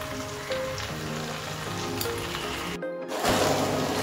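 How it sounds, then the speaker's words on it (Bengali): Chicken being fried down (kosha) in a pan for a desi chicken curry, giving a continuous soft sizzle with a few faint stirring scrapes, moderately quiet, with a brief dropout near the end before the sizzle returns louder. "এখনও কষানো চলছে"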